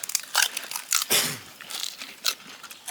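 Crisp crunching and chewing of pani puri shells, several sharp bites in an irregular rhythm, close and fairly loud, with one longer crunchy burst in the middle and no voices.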